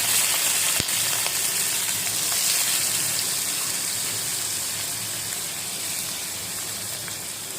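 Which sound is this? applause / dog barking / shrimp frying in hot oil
shrimp frying in hot oil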